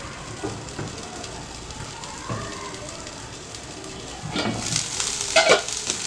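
Mint and ginger sautéing in a small amount of oil in a pan, giving a soft steady sizzle with occasional stirring scrapes, building to a louder crackling burst near the end.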